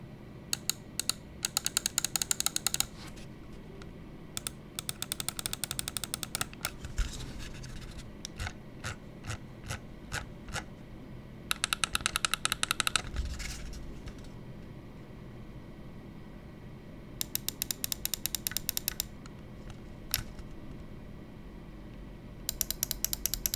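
Zaopin Z1 Pro gaming mouse buttons clicked in rapid bursts and single presses, sharp close clicks separated by quiet gaps over a low steady hum.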